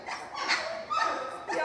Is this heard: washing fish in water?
no